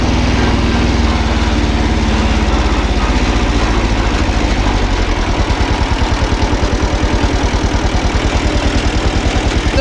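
A Kubota tractor engine with low hours, found in a barn, runs at a steady idle close to the microphone, a loud, even, throbbing mechanical chug that settles into a tighter pulse partway through, with no talking.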